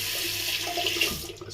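The knot of a shaving brush is dipped into water, giving a steady close wash of splashing and trickling that fades away at the end.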